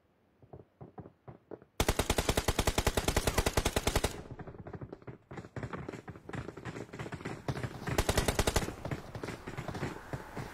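Rapid automatic gunfire from the battle royale game PUBG Mobile, loud and close, with a dense sustained burst followed by scattered shots and a second short burst near the end.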